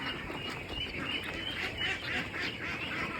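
A flock of 13-day-old ducklings chatters and quacks continuously in a dense, overlapping cluster of calls at close range, with no talking.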